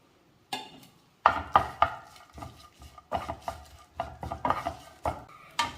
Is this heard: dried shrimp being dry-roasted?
yes